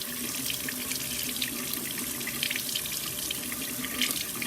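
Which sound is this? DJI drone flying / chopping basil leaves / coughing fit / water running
water running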